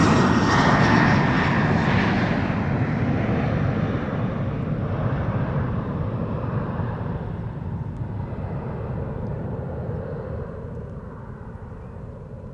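An Embraer 190 airliner roars past at Amsterdam Schiphol Airport. The engine noise is loud and broadband at first, then slowly fades as the plane moves away, with no voices.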